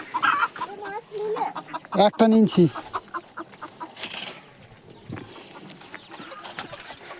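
Chickens clucking in a rural courtyard, several close irregular clucks and squawks with a louder burst midway, a person speaking briefly among them.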